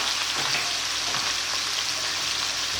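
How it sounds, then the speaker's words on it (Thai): Pork belly and minced pork sizzle steadily in a hot pan, a dense, even frying hiss that runs without a break through the whole stretch, close and fairly loud, with no voices. "เราก็จะใส่หมูสามชั้นนะคะ ลงไปผัดนะคะ"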